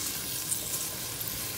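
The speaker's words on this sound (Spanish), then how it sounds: "Aquí voy a dejar de 1 a 2 minutitos a que cambie de color la cebolla, que suelte su sabor y su aroma." Chopped onion and green chile frying in oil in a cooking pot for vegetable soup with ground beef, a soft, steady sizzle and crackle throughout, fairly quiet with no voices.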